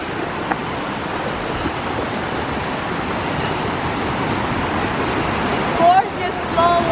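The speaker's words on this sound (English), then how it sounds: "Flow of water." Steady outdoor rush of flowing water and breaking waves beside a walking route, a broad continuous wash heard alone with faint brief voices near the end.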